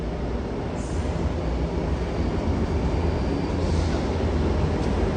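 A Sydney Trains Tangara electric train pulling in at platform 2 of a City Circle station on a Cronulla service: a steady, loud low rumble and rolling rail noise that holds for the whole stretch, with no voices.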